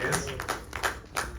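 A few scattered claps and taps from a comedy show audience greet a comedian being introduced to the stage, brief and uneven rather than a full ovation.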